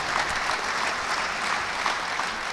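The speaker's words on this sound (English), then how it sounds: "The clap should be bigger than this." Audience applause at a staff retreat award ceremony, steady continuous clapping from a crowd, fairly soft and distant, holding level throughout without talk.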